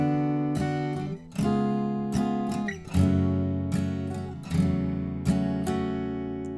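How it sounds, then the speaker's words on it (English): Guitar strumming the chords of a song from Aladdin in a short strumming pattern, with a handful of distinct strokes and chords ringing out clearly between them, played alone without talk. "Now those 4 chords we just learned are all with the short strumming pattern"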